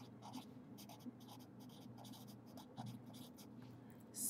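A pen or pencil scratches steadily across paper while decimals are written out in words, making faint close strokes in short rhythmic bursts.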